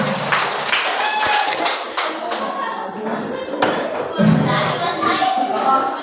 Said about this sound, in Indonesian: Oke, aplaus semua Ibu. Aplaus.